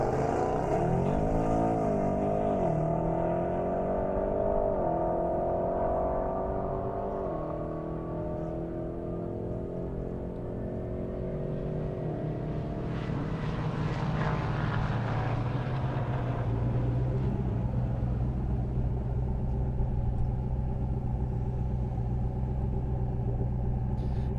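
An Audi RS3 and an Audi RS6 race down an airstrip, a loud engine roar rising through gear changes, then a sustained high-speed rumble as they pass and pull away.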